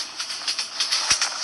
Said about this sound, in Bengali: দেখেন একটা ট্রেন যাচ্ছে, এই ট্রেন চলে গেছে।